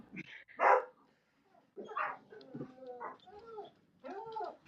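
Dogs barking indoors, several loud close barks and yips in irregular bursts with short pauses between them.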